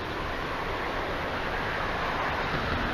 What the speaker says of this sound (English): you can hear and see the water running right here